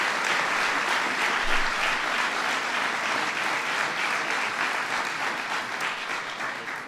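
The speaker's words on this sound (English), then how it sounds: "and that's worth applause" Sustained applause at the White House for the UConn Huskies, a loud full room of clapping that holds steady and fades slightly toward the end.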